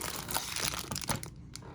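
Crinkly plastic wrappers from 1989 Bowman baseball trading card packs rustle and crunch close by in a steady busy stream, fading briefly near the end, with no talking.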